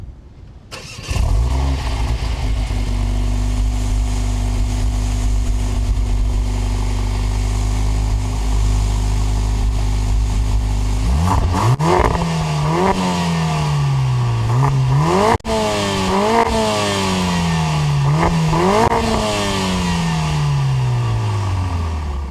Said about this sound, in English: this is the 4-cylinder turbo, so I'm curious to know how it sounds. Let's go ahead and fire it up.